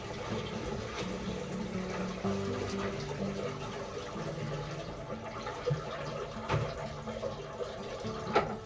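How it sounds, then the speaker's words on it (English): Steady splashing and trickling water from a garden fountain runs throughout, moderately loud and close, with a low gurgling undertone and no voices. "Let's see if the fountain will work."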